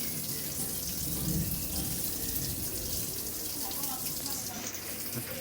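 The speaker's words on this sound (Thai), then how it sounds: "รอน้ำเต็มรอน้ำเต็มก่อนนะครับ" Water runs steadily into the tub of a Samsung top-load washing machine that will not wash or spin, a continuous hissing rush at constant loudness with no talk over it.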